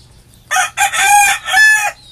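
Bantam chickens let out a loud, close run of clucking and crowing-like calls in three bursts separated by brief pauses.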